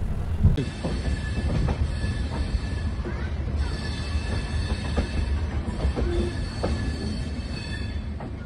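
The Tambaram-Sengottai Super Fast Express runs along the track after leaving Tirunelveli Junction, a steady loud rumble of rolling coaches heard from inside, with clacking wheels and occasional high wheel squeals.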